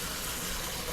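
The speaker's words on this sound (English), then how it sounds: "We're going to run cold water into it" Cold water runs from a kitchen tap into a sink, a faint, even rushing hiss with no break.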